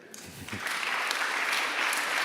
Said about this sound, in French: Et maintenant, vous pouvez les applaudir.